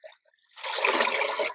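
Water pours onto potted plants in a terrace garden, a short, close gush of splashing liquid lasting about a second after a brief faint trickle.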